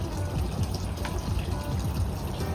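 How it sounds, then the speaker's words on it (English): A garden waterfall on a backyard patio gives a steady, close, full-bodied rush of splashing, flowing water that runs on without a break. "Got my waterfall there."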